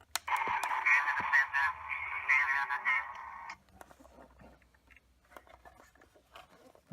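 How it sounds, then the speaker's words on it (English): An Imperial Probe Droid sound effect plays from a Sideshow sixth scale collectible figure: a loud, warbling electronic droid call of about three and a half seconds, followed by faint clicks and handling noise. "it makes a noise, just one sound, the Imperial Probe Droid sound"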